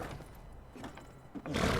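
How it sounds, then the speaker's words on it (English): A horse in the game Skyrim gives a short neigh under a steady rumble of gameplay ambience, with hoof-like thumps and a loud surge of noise at the end. "Yeah, annoying horses."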